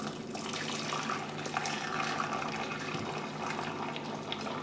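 Hot liquid aphid spray poured over a sink into a plastic bottle makes a continuous, fairly close gurgling splash stream that fills the whole stretch without any talking.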